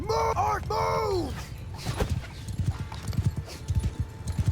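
Horses clip-clop across a battlefield in Mount & Blade II Bannerlord, the hoofbeats rhythmic and fairly close, following a loud whinny at the start.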